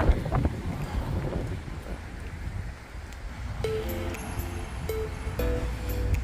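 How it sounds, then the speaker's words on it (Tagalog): Gusty wind buffets the microphone with rough, rumbling bursts, easing then picking up again, with faint tonal sounds later. "Mahangin sobra."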